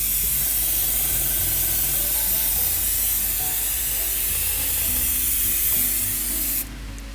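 Paint mists onto the iron road wheels of a Zvezda T-34/76 model tank in a steady, close, unbroken hiss that runs for several seconds and cuts off abruptly near the end.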